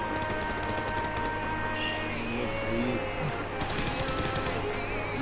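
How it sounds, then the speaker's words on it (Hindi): Video game gunfire from an M249 machine gun, two long rapid bursts of rattling automatic shots at the start and end, loud and close, with game noise and faint background talk between. "सारी गोलियां कवर में मारी"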